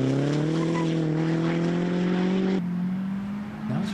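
A modified MG race car drives fast, its high-revving engine note rising steadily and then dropping abruptly as it passes, with a brief squeal near the end.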